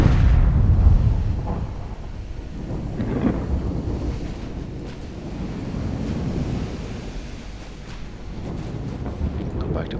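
Heavy warship guns firing in a naval battle game, deep rumbling booms rolling in and out under a constant low roar of sea and wind, loud and close with several swelling blasts.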